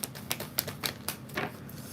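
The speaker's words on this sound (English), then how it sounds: "I'm definitely making sure I give it good shuffles" Tarot cards being shuffled up close, a quick series of soft crisp riffling clicks and slaps in an irregular rhythm, fairly quiet with no voices.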